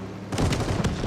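Bombing run explosion in the video game Call of Duty: Vanguard, a sudden loud rumbling blast that rolls on with heavy booming impacts until the end.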